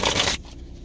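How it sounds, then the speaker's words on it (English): A deck of tarot cards being shuffled, a dense papery riffle up close lasting a moment before cutting off into quiet room tone. "I'm gonna shuffle this one more time"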